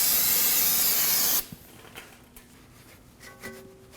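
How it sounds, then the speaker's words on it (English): Brake cleaner sprays in a loud, steady hiss onto the front brake area of a 2013–2015 Subaru XV Crosstrek, cutting off abruptly, then faint clicks and light handling noises follow. "We'll spray this area down with some brake clean and wipe it down with a rag."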